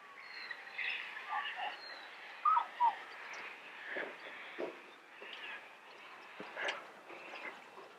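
Small birds chirp and call intermittently outdoors, a few brief bright notes standing out against a soft, steady background; no voices.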